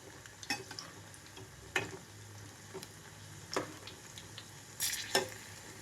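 Sweetcorn pakodi made from ground corn fry in oil on a medium flame, giving a soft, steady sizzle with occasional sharp taps and clinks as the fritters are turned over.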